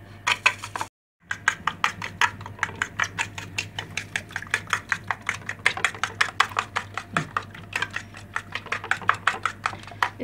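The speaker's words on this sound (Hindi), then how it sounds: "और अब हम इसको अच्छी तरह से मिक्स कर लेंगे।" Whisking egg and sugar mixture for sweet bread egg toast, a fork or spoon beating rapidly against a bowl in a steady run of quick clicking taps, close and fairly loud, with a short pause near the start.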